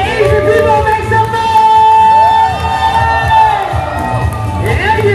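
A crowd at an outdoor summer bikini contest cheers, whoops and claps loudly, with shouts rising over a steady roar for several seconds.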